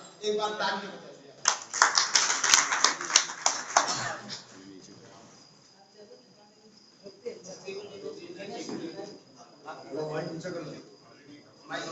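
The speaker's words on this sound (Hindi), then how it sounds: "एक बार तालियां बजाइए।" Audience clapping at an outdoor Hindi poetry evening held at a temple: a burst of applause for about two seconds, then fading to scattered claps and quiet crowd murmur, with people talking around it.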